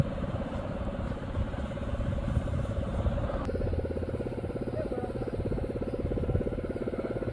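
Small mini bike engine restarted after a crash, a steady close buzzing idle that shifts into a faster, rougher putter midway, running continuously with no talk.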